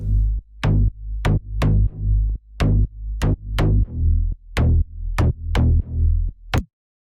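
Layered synth bassline in a beefy Selected style, a master-tuning sweep shaping each hit: about a dozen punchy, heavy bass notes in a steady rhythm, loud and close, ending in a short rising sweep before silence.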